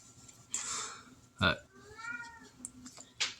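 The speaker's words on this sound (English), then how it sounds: "Very needy cat right now." A domestic cat meows quietly a few times at close range, short separate calls with soft handling noise and a quiet room hum between them.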